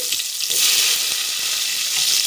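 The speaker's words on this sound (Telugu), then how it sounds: "ఆయిల్ బాగా హీట్ అయింది ఇందులో ఆవాలు జీలకర్ర మెంతులు వేసుకోండి ఆనియన్స్ వేసుకోండి" Onions with mustard, cumin and fenugreek seeds fry in well-heated oil for a prawn and okra curry, a loud, dense, steady sizzle close up throughout with a few faint stirring knocks.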